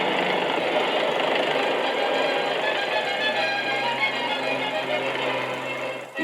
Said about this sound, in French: De même qu'avec son puissant moteur hispano-suiza